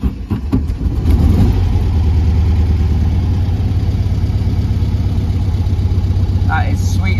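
Air-cooled 1200 Volkswagen Beetle engine starting with a brief crank, then settling into a steady, close, loud idle with an even low thrum, while faint sounds come and go above it.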